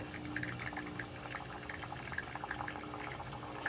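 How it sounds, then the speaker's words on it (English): Hot water streams steadily from the wand of a Gaggia Anima espresso machine, a continuous splashing pour with light gurgling texture that holds even and close for the whole stretch. "Steady stream of hot water coming out through the wall."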